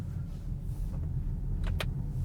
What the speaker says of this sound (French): On va voir si les 4 roues motrices nous aident ici dans ce virage en épingle.